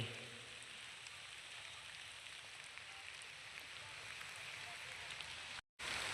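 Steady rain falls during an outing to cut coconuts, a faint, even hiss that runs unbroken apart from a brief dropout near the end.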